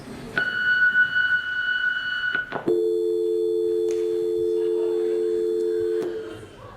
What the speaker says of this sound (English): You have reached my answering machine. Leave a short message after the tone